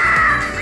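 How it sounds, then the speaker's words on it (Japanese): A harsh, eerie crow-like caw from a bird character in a pachinko video game rings out loud and continuous, grating and sustained over its whole short span. "この不気味な鳴き声はあの鳥がやってきたのか"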